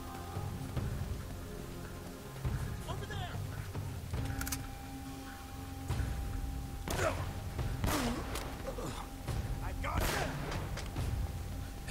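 Gunfire in the video game Uncharted: Drake's Fortune, several sharp shots and thuds scattered through the stretch, strongest from about 7 to 11 seconds, with a person talking over the action.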